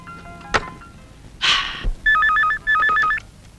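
A telephone rings with two clear electronic warbling bursts, preceded by a sharp knock and a brief breathy rush, in an indoor film scene; no one speaks during the rings.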